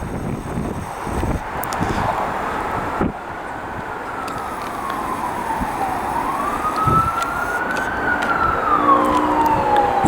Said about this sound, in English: sometimes a siren feels like it has a texture. It cuts through the air.